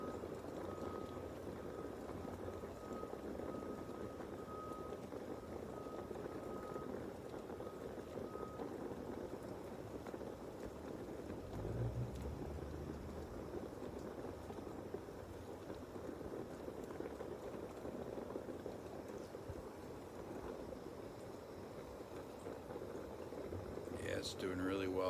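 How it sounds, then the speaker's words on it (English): An old-fashioned 4-cup coffee percolator bubbles and gurgles steadily close by, a continuous churning burble that runs the whole time with no break. "You guys can hear that percolating."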